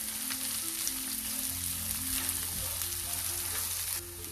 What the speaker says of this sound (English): add garlic, add onion, saute this a little bit